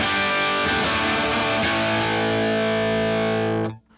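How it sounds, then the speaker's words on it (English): Electric guitar played through a distortion effect: a loud, fuzzy, sustained chord that rings steadily for several seconds, then cuts off abruptly near the end, with no voices. "Distortion is that aggressive, fuzzy sound that you hear on rock songs,"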